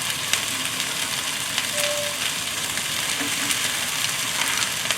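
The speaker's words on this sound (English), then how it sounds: "Simple stir fry, very healthy. Stir, stir, stir." Bell pepper, halved string beans and zucchini stir-frying in a pan give a steady, even sizzle throughout, with faint scraping from stirring and no talk.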